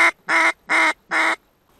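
A decoy hen duck quacks four times in a steady, evenly spaced series during a spring drake hunt, loud and close, with no voices.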